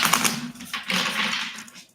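A deck of Modern Love Tarot cards being shuffled, a close, dry riffling and flicking of cards in quick bursts that run for about two seconds before trailing off.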